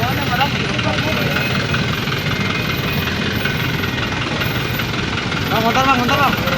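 A Toyota Fortuner idles with a low, steady rumble as it is edged forward in a crowded driveway, while people talk over it nearby.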